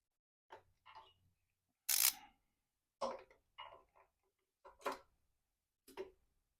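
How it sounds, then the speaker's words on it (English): Ratchet clicks in short bursts while top end bolts are tightened on a 1990 Harley-Davidson Sportster 883 engine, sharp close clicks in clustered groups with pauses between strokes, alone in a quiet space. "If I can even get the ratchet on it."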